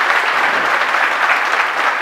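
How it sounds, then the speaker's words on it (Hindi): Loud, dense applause from an audience honoring a Rajasthan state topper in Sanskrit education, a steady roar of many hands clapping close by for about two seconds with no pause. "जोरदार तालियां"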